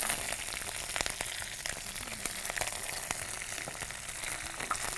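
Cashew nuts fry with bay leaf, cinnamon, cardamom and curry leaves in hot oil, a soft, continuous crackling sizzle with faint occasional pops, heard fairly quietly.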